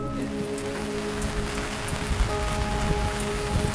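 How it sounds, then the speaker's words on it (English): Constant rain falls in a steady, dense hiss that stays even throughout, heard outdoors on a trip in the Australian outback with a faint low hum beneath it and no talking. "With constant rain that looks set in now falling"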